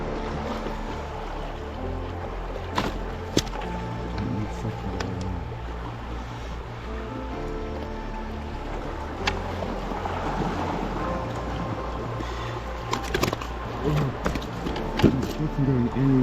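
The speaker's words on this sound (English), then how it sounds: "As you can hear, there's a little bit of swell" Gentle sea swell laps at night against a small fishing boat, a low continuous wash of water with occasional knocks and creaks, steady and fairly quiet throughout.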